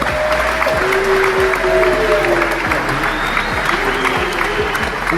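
Crowd applause rolls on steadily at close range, a dense wash of clapping with a voice speaking over it throughout.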